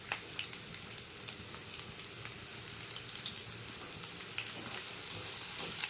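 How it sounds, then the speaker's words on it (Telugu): Onion and grated coconut fry in hot oil, crackling and spitting steadily up close with small bright pops throughout. No voices are heard over the continuous frying. "ఇది కొద్దిగా కలర్ వచ్చే వరకు ఫ్రై చేసుకోవాలి ఆయిల్లో ఇది ఉల్లిపాయని ఈ విధంగా ఫ్రై చేసుకోవాలి"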